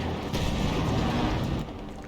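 Distant gunfire and artillery rumble from a Company of Heroes battle, a dense continuous low roar of shots and blasts that stays loud throughout with no speech.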